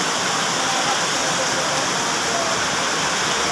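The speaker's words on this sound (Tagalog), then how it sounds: "Ano na lang kaya isip ni Madam Jack kung tuloy-tuloy yung ulan, ano?" Heavy rain roars in a dense, unbroken wash of noise, loud and constant throughout with no pauses.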